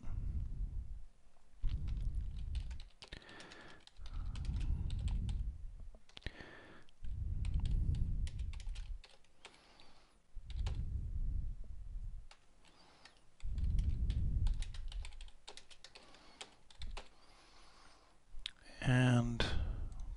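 Light, scattered clicks from typing on a computer keyboard while entering soup menu items, heard quietly beneath near, continuous talking.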